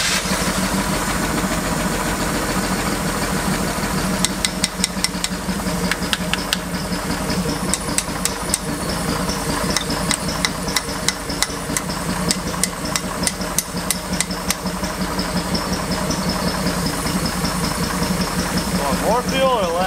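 An old Chevrolet Nova engine with a GM one-barrel carburetor idles steadily and close by, running a little lean, with a sharp repeated tapping rattle over the rough idle and people talking over it.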